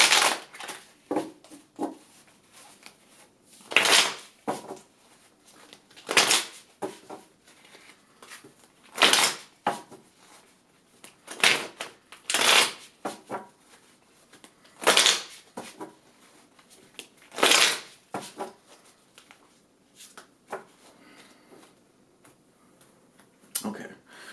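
New Orleans Voodoo and Yoruba oracle card decks are shuffled by hand, making repeated crisp riffling bursts separated by short pauses, close and clear with no talking.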